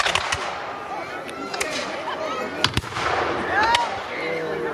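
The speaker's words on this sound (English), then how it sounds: "Now with those cannon shots, you can see the next problem." Distant booming cannon shots at a Battle of Stoney Creek re-enactment pop out at intervals over a busy background of crowd noise and chatter, with a few sharper cracks standing out.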